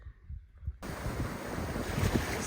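Strong Arctic wind roars and buffets the microphone aboard a boat, swelling suddenly into a loud, steady rush with a faint high whine above it.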